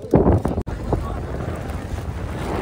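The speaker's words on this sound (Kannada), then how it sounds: "ಗಾಳಿ ಜೋರಾಯ್ತು" Strong wind gusting over a boat at sea during fishing, a loud steady rush of buffeting noise that peaks early on, then settles into a constant roar.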